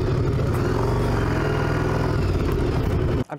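A 2005 Yamaha Dragstar XVS 1100A Classic cruiser motorcycle is being ridden, its engine a steady, loud, low rumble with wind noise for about three seconds before it cuts off abruptly.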